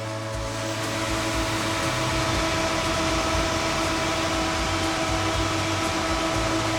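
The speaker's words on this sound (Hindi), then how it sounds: "कंप्यूटर में सारे फैंस चल रहे हैं और फुल पोटेंशियल पे चल रहे हैं, तो नॉइज काफी ज्यादा आ रही है" Computer fans spinning at full speed on a PC with an air cooler, a loud, constant whirring hum with steady tonal drones, close and continuous without any talking.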